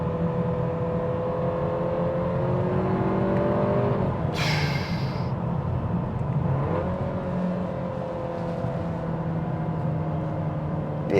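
2025 Audi A3 engine rising and falling in pitch through aggressive downshifts, a steady droning cabin hum with a sharp blip partway, heard from inside the car with no talk.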